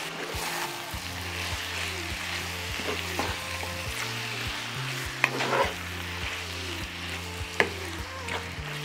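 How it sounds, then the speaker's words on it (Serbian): Meat sizzles steadily in a pan after stirring, a dense continuous frying crackle with occasional pops, close and loud, with a low rhythmic hum running underneath. "Sve ću sad ovo premešati i ostaviti da se prži."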